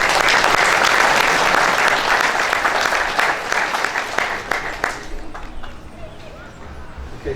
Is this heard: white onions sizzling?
no